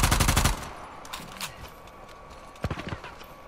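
M4 rifle fire from Uncharted 4 multiplayer: a rapid, loud burst opens, then quieter scattered shots follow, and a second short burst of fire cracks near the end.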